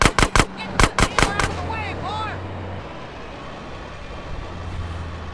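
Gunfire in GTA San Andreas during a truck chase, a burst of loud sharp shots in quick succession, then a vehicle engine drone with a voice briefly over it.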